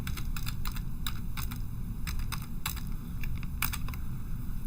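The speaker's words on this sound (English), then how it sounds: "We type in our formula." Steady keystrokes on a computer keyboard as a spreadsheet formula is typed, clicking in quick uneven bursts close up over a low background hum.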